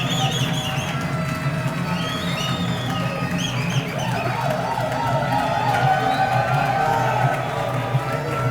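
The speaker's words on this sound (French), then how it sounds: "Des acclamations, s'il vous plaît." A large outdoor crowd at a political rally in Kinshasa cheers and whoops continuously, a dense, steady roar with shrill whistles and voices rising and falling throughout.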